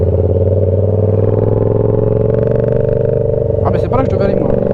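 A loud Aprilia RSV4 motorcycle engine drones steadily at close range, with a harsh exhaust note throughout and a brief clatter near the end.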